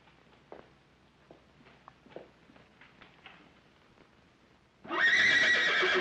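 A horse stands indoors in a library. Soft clip-clopping hoof steps on the floor come first, then a loud, close, sustained neigh.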